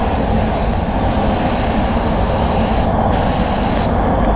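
Spray gun applying clear coat on a car panel in cold weather, a loud steady hiss of atomized paint running continuously from start to end with no talk.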